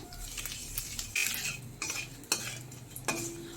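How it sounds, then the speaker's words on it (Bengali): Bay leaf, dried chili and nigella seeds fry in hot oil for tempering, a soft sizzle under repeated scraping and clinking of a spoon stirring in the pan. "ফোড়নটাকে একটুখানি ভেজে নেব।"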